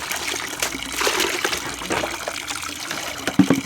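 Water runs from a tap into a tub filled for washing clothes at home, a continuous splashing gush with brief clatters, fairly near and with no talk.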